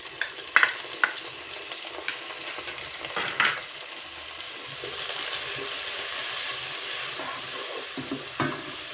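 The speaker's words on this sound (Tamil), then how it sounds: "இப்போ தக்காளி ஆட் பண்ணுறேன்." Sliced tomatoes go into a pan of frying onions and curry leaves and are stirred, with a few clattering scrapes of the spoon followed by a steady, moderate sizzle.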